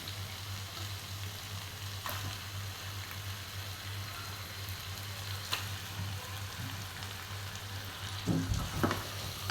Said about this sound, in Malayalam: ഇനി ഇതിലോട്ട് നമുക്ക് കഴുകി മാറ്റി വൃത്തിയാക്കി വെച്ച ചിക്കൻ ചേർത്ത് കൊടുക്കാം